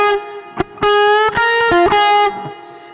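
Electric guitar with distortion playing short notes and a slight microtonal bend that gives a nasal, crying tone, loud and close, with a few sustained notes.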